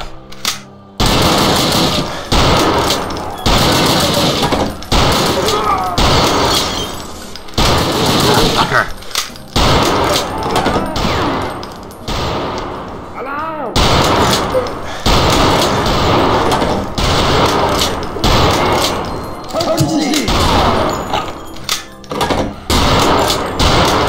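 A cannon AK fires in the Wolfenstein video game, a near-constant loud automatic barrage of heavy gunfire with thuds and impacts throughout, briefly easing in places before resuming.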